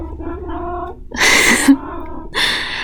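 Two cats meow a few times, with harmonic yowls separated by brief pauses; the calls are fairly close and moderately loud, with no talking.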